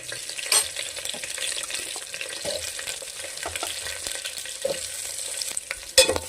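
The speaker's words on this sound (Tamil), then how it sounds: "கருவேப்பிலை லைட்டாக வதங்கி வரட்டும்." Curry leaves, garlic, ginger, green chilies and shallots sauté in a pan with steady crackling sizzle, stirred with intermittent scraping clinks and a sharper clatter near the end.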